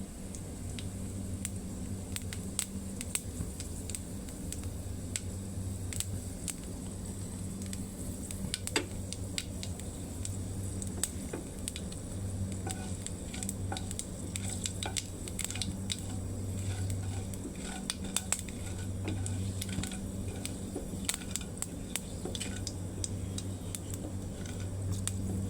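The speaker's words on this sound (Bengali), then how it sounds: "তেল গরম হয়ে গেছে, দিয়ে দিলাম পাঁচফোড়ন।" Panch phoron spices frying in hot oil for a vegetarian kochu and jackfruit seed dish, a faint steady sizzle scattered with soft crackles and pops over about twenty-five seconds.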